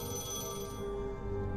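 A telephone rings steadily in The Lion's Song video game, a sustained electronic bell tone layered over a soft musical backdrop. It holds constant and fairly loud throughout.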